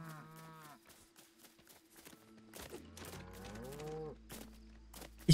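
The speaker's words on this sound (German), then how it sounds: "Oh, da ist eine Lego-Kuh." Cow in the Lego Fortnite video game mooing in long, drawn-out calls that swell midway through, with a second lower moo and soft game ambience around them; no one speaks.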